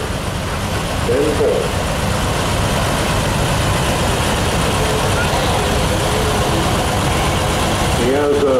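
A 1948 Oliver Standard 88 tractor engine runs steadily in a steam and gas show parade, a continuous low rumble throughout, with voices heard over it.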